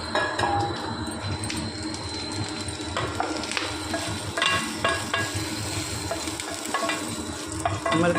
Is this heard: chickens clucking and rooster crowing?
no